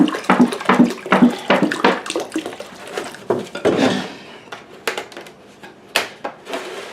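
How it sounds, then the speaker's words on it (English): Tap water splashes into a repotting bowl used for watering air plants, a loud irregular gushing and sloshing that thins into scattered drips and clinks near the end. "I fill my bowl"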